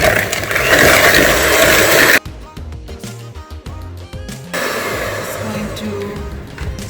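An electric mixer whirs loudly as it beats sugar into egg yolks for a tres leches cake, stops abruptly into a few seconds of clinks and small knocks, then starts whirring again.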